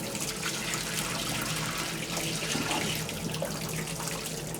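Broth-water poured into a pot while cooking Grünkohl (kale), a steady close splashing, trickling stream of liquid running continuously without talk.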